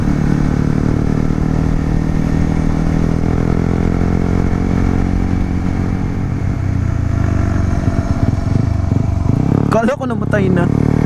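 A Yamaha R15M motorcycle engine runs steadily up close at a low, even idle-like drone for several seconds, with a brief clatter and a shift in tone near the end.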